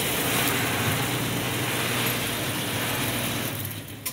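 A Bluedog BWS 80 HD wire stripping machine runs thick XLPE-coated copper cable through, giving a continuous mechanical whirring with gear and ratchet clatter that trails off at the end.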